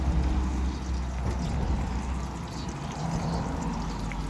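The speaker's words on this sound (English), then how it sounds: "Pour a little bit of oil in the pot." Oil pours steadily into a cooking pot with a continuous low rush and faint trickling, fairly close and unbroken for several seconds.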